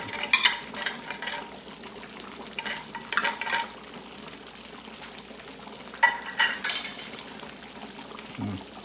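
Menudo being stirred in a pot with liver spread just added, a spoon scraping and clinking in short bursts against soft background simmering, close and moderately quiet.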